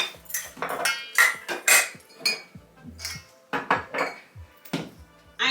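A cooking pot for the wet ingredients of a Jamaican spice bun is handled, with repeated close metallic clanks and clinks of pot and utensils, irregular and fairly loud.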